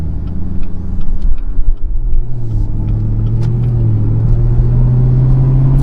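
A supercharged 650 HP Chevy Camaro ZL1 V8 accelerates hard, its deep, loud engine note rising and climbing in pitch through the revs, heard close from inside the car with no one speaking.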